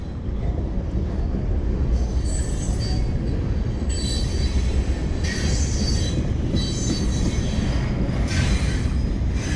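A train rolls past close beside houses, a loud steady rumble of wagons with wheel squeal and rail noise running unbroken throughout.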